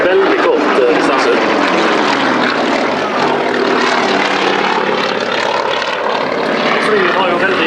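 A Yak-50 aerobatic propeller plane, a Soviet-built fighter-pilot trainer, flies a display at the Stord Airshow, its radial engine roaring loud and steady with shifting pitch while a commentator talks over it throughout.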